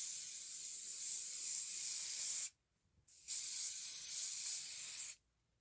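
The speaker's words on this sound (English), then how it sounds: "give it a little hairspray" Hairspray misted onto an afro wig in two long, steady hissing bursts split by a brief pause, close and fairly loud, then silence at the end.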